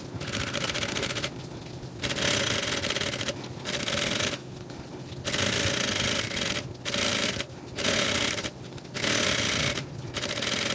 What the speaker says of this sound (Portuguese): agora a gente vai passar uma costura aqui